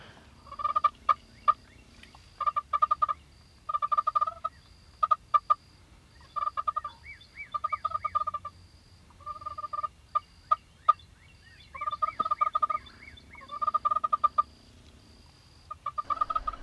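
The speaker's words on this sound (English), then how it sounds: "we hear a gobble, just single gobble, what we feel like is about 300 yards away" Wild turkeys gobbling and clucking across open country, repeated rattling bursts at fairly even intervals, moderately distant and fairly quiet against a still background.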